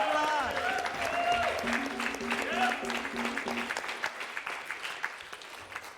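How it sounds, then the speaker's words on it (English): Audience applause greets the Indiana University Hoosiers football team, Big Ten champions, at a church service. The clapping is dense and steady throughout, with voices and a sustained tone mixed in early on before the applause thins slightly toward the end. "Let's give them a round of applause."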